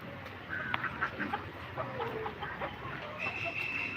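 Fancy chickens and other fowl on a farm, waiting for food, make a busy mix of clucks and duck-like quacks at moderate distance over steady background noise, with no clear talk.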